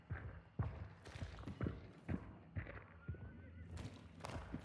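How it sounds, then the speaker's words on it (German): Horse neighing in the video game Hunt: Showdown: a series of whinnies and snorts with clip-clopping hooves, moderately close and distinct, repeated several times over a few seconds with no talk. "Ich hab ein Pferd gehört."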